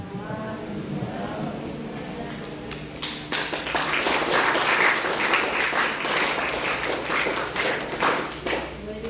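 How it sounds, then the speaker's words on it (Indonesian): An indoor audience in Indonesia gives a speaker, Bapak Seko, a round of lively hand-clapping. After a few seconds of quieter room sound, the clapping starts and builds into dense, sustained applause that fills the room. "Ayo sekali lagi yuk kita berikan tepuk tangan yang meriah untuk Bapak Seko"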